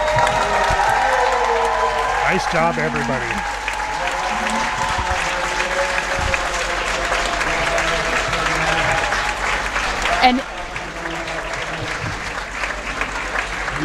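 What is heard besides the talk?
applause and cheering for puzzle competition finishers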